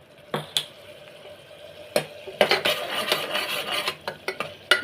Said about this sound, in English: I'm going to give it a fine mix, and you can see all our veggies and other things are fully cooked.